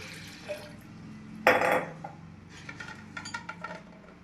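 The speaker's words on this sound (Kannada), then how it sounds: "ಈಗ ಜಾರ್ಗೆ ನೀರು ಹಾಕ್ಕೊಳ್ತಾ ಇದ್ದೀನಿ." Water is poured into a blender jar while making an amla detox drink, a brief splashing gush of liquid into the jar, with light clinks of kitchen utensils before and after, quiet and close.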